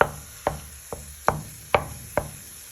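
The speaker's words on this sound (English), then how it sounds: "put your beef mince in the pan. With a wooden spoon, you want to start breaking it up." A wooden spoon chops and breaks up beef mince in a pan, six sharp knocks against the pan at a steady, unhurried pace over a quiet background.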